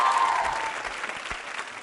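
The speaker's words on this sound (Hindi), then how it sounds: "तालियां जोरों से बजाइए प्रीति जी के लिए" Audience applause at a Hindi tourism quiz show, steady clapping from a room of people that starts loud and eases slightly over two seconds, with a brief voice at the start.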